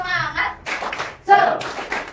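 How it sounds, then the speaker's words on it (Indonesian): A class of students stands and claps a rhythmic spirit clap together, quick bursts of hand claps in a short patterned sequence, close and lively in a classroom. "Tepuk semangat."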